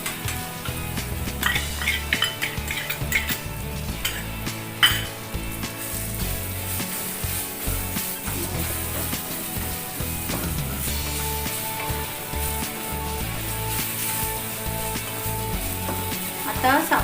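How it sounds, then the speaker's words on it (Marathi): Dry fruits roasting in a pan for Maharashtrian prasad sheera, giving a steady close sizzle with scraping stirs and occasional spoon clinks against the pan throughout, no voices. "आता ड्रायफ्रूट पण भाजून घेतो।"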